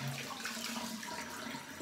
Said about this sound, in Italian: allora bagno il viso con acqua calda